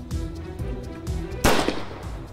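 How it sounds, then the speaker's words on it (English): A single sharp gunshot cracks out in the video game Kindergarten, a loud sudden bang over soft background game music. "Did you just shoot Lily?"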